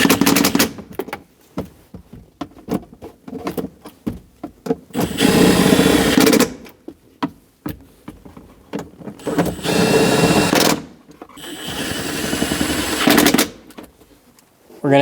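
Bursts of a power tool snugging down bolts during a spark plug wire replacement on a 2003-2025 Chevrolet Express 2500 van, with several short rattling pulses followed by three longer sustained runs, loud and close, with no talk.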